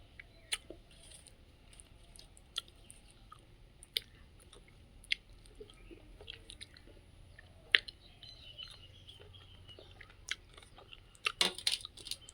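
Someone chews a spiced jujube mash (boroi makha), producing faint, sparse wet crunches and clicks close to the mic over quiet room noise, with a small cluster near the end.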